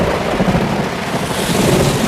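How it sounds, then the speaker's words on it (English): Heavy rain pours steadily under rolling, rumbling thunder during an outdoor storm, a loud dense wash of sound with deep low rumbles swelling throughout and no voices. "Thunder, lightning,"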